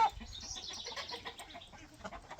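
Free-range chickens from a laying flock of about 45 birds cluck softly and intermittently at a distance, quiet and scattered against a calm outdoor background on a farm.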